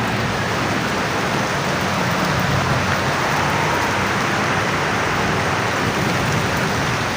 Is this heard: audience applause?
no